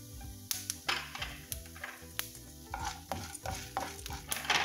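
Cashew nuts frying and being stirred in a pan with chana dal for semiya idli, a steady sizzle broken by repeated scraping stirs, close and fairly loud, with no talk.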